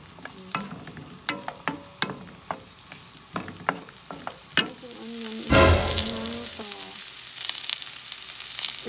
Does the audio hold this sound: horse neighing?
no